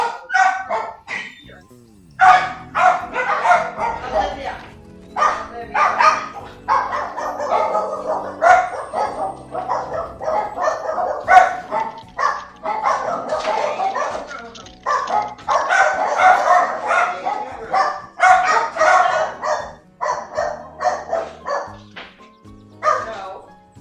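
Several dogs bark and yip repeatedly in bursts throughout, fairly close and loud, with a voice talking over them at times.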